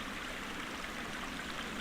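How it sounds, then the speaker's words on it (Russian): A forest stream flows in a steady, broadband rush, recorded by a trail camera, continuous and even with no voices. "Соседняя камера была направлена на тот же самый ручей"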